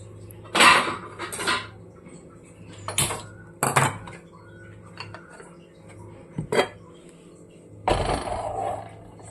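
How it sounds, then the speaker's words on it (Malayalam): Pots and pans clattering on a kitchen stove as a pot of sardines and salted mango is set over the flame, several sharp metallic knocks and scrapes spaced irregularly over a quiet background. "അടുപ്പ് കത്തിച്ചിട്ട് അടുപ്പിലോട്ട് വയ്ക്കാം."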